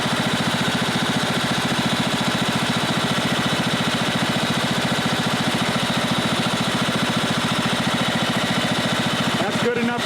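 A tractor engine idles steadily after a partial tune-up with a new filter, a loud, close, continuous mechanical chug with an even rapid pulse throughout, with a brief rattle at the very end.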